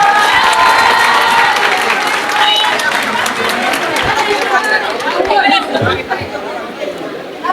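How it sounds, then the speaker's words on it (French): A large crowd at a high school graduation ceremony claps and cheers steadily, with loud chatter and scattered shouts throughout, the noise easing slightly near the end. "Il mérite à ce titre des applaudissements que je vous remercierai de bien vouloir lui accorder"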